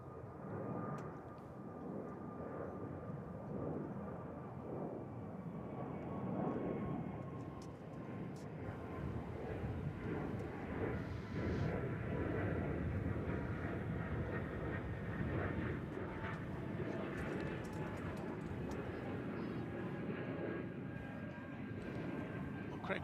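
Jet airliners taking off at DFW Airport roar steadily for the whole stretch, a broad continuous engine rumble with a faint rising whine, under some background voices.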